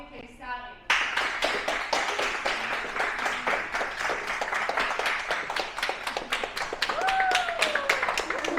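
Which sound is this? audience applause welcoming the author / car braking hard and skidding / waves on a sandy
audience applause welcoming the author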